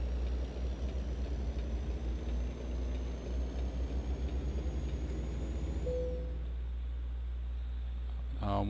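Truck engine in the video game American Truck Simulator, a steady low rumble running throughout that drops away near the end, with a brief rising tone at the close.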